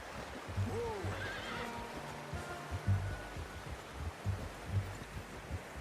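A horse in Red Dead Redemption 2 lets out a clear whinny, then its hooves clop in uneven steps on the ground, with low rustling underneath.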